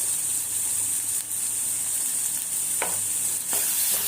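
Vegetables fry in a pan with homemade Malvani masala and a little turmeric, a steady close sizzle with a few clinks of the stirring spoon, no talking.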